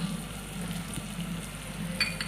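Spices being stirred into veg biryani gravy in a pan, a faint steady sizzle with soft scraping of the stirring, quiet and close with no talk.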